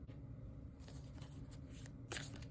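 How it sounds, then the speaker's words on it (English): Tarot cards being shuffled and pulled from the deck, a soft continuous riffling and sliding with a brighter flick near the end, quiet and close with no talking. "But I will also pull more cards for you."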